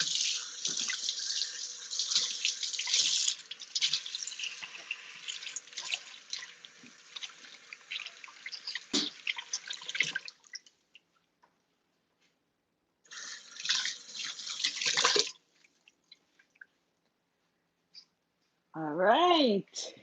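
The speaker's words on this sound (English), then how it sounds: "I'm gonna wash my hands again." Hands are washed under a running tap at an outdoor jerk barbecue chicken cook. The water runs steadily for about ten seconds, stops, then splashes again briefly, and a voice speaks near the end.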